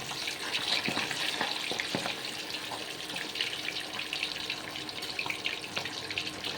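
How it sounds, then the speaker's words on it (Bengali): Pabda fish fry in plenty of hot oil, giving a dense, close, continuous sizzle broken by sharp spattering pops, with no voices. "তেলটা একটু বেশি চলে এসেছিলো, তো সেই জন্য মাছগুলো একটু ফুটছিল চড়বড় করে"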